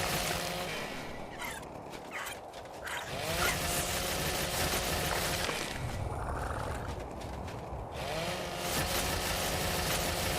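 A chainsaw in the video game ARK Genesis cuts with a sustained buzzing rasp that rises and dips in intensity, mixed with game ambience.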